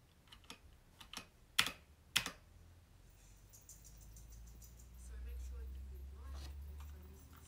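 Computer keyboard keys pressed while editing in iMovie: a few sharp clicks, then two louder distinct presses close together, followed by quiet low room hum.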